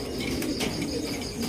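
Wings of a pair of black shoking pigeons flap in a brief flurry up close, a soft broadband fluttering over a noisy background with faint bird sounds.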